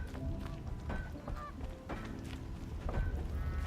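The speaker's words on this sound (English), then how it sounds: "Turkeys and geese are invulnerable in the village." Geese honking in a village in the game Horizon Zero Dawn, with repeated nasal honks from several birds overlapping in a steady, busy chorus over low ambient noise, with no talking.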